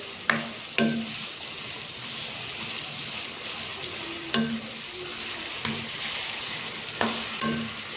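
Chopped capsicum fries in a pan for chicken vegetable macaroni, a steady broadband sizzle with a few sharp scraping stirs of a spatula at intervals, close and clear with no talking.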